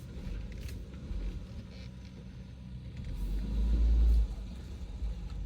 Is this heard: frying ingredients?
no